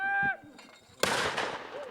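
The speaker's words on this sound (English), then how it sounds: "as soon as the first mortar was fired, battle ensued" A mortar fires during a WWII battle reenactment, a single sharp blast followed by a rumbling wash of echo, preceded by a brief shouted call.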